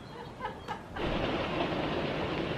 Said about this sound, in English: Hear that? That's the train.